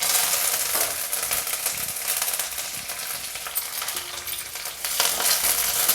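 Curry leaves with cumin and mustard seeds crackle and sizzle in hot oil, tempering for a roasted poha chivda, a steady bright frying hiss with small pops throughout and no talk.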